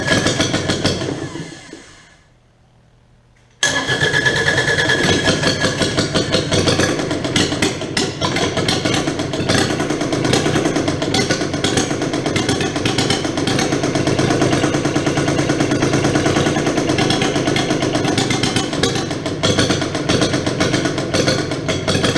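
A Kubota D722 diesel engine runs at a steady idle after a new pump install, loud and close with an even mechanical drone that holds throughout following a short quiet gap near the start.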